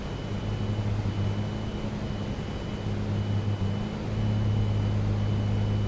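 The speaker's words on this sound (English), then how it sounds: "that's the first time in the sim that I've heard like an engine splutter as you lean it too much" A Piper Comanche's piston engine in the A2A flight simulator, run rough when leaned too far, gives a steady close droning hum with a low tonal rumble that shifts slightly partway through.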